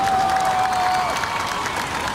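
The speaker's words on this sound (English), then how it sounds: "Crowd likes it." A beach crowd at a professional surf contest in Rio applauds and cheers in a steady, moderately distant wash of clapping and voices, with a faint tonal whistle over the start.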